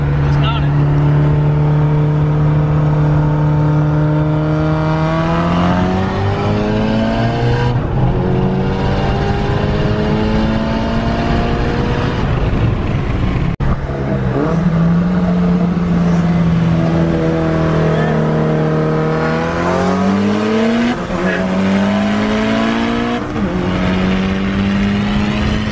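Mitsubishi Evo and other cars at Brainerd International Raceway, a loud continuous engine drone with rising and falling revs across the whole stretch, heard from inside a vehicle with people talking over it.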